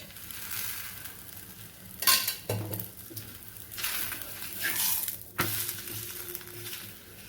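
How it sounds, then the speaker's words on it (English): A carrot paratha fries in ghee on a hot tawa, giving a soft steady sizzle with a few louder scraping and flipping clatters. "Parotta both the sides roast అయ్యే వరకు fry చేస్తాను."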